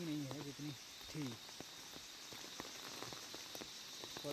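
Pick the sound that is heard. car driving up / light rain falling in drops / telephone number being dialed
light rain falling in drops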